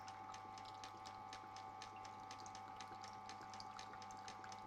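Water topped up into the reservoir of a wet stone grinder, a faint trickle under a steady machine hum with quick repeated ticking clicks throughout.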